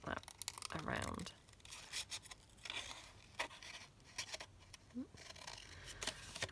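Scissors snip and rustle through a paper banner in quick, uneven bursts of cutting and crinkling, close but quiet, with a soft voice murmuring briefly underneath.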